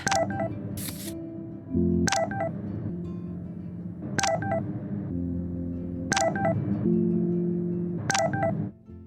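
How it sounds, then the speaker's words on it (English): A phone in the game Life is Strange takes repeated incoming messages, a run of bright electronic notification chimes about every two seconds over a low, steady ambient game hum. "If you wait long enough, Chloe will blow up Max's phone."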